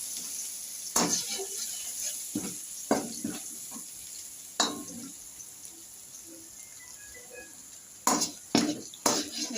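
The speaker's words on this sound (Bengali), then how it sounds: "কাঁচা লঙ্কা একসাথে দিয়ে হালকা এগুলো একটু ভাজা ভাজা করে নেব।" Green chillies lightly frying in a pan for chili chicken, a low continuous sizzle broken by sharp spatula scrapes and knocks against the pan, close and without talk.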